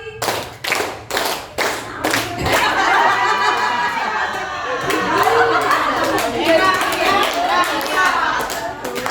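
A class at a state junior high school claps in a rhythmic pattern, starting with several sharp, evenly spaced group claps before giving way to a dense burst of clapping mixed with children's chatter and laughter.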